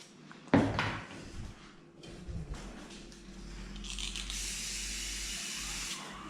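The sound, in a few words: spraying cooling lubricant spray onto clipper blade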